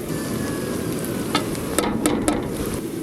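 Ground cumin, coriander, turmeric, red chili powder and salt hitting hot oil with ginger, garlic and onion for a fish curry, a close steady sizzle with a few sharp spatters and stirring scrapes.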